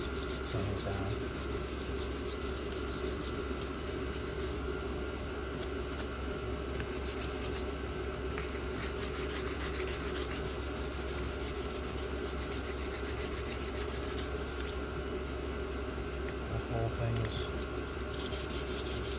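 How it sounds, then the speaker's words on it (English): An abrasive scratches steadily down a knife blade during cleanup work, a continuous close rasping rub with faint background noise and occasional brief talk. "So this is actively eating or scratching the knife, turning it down."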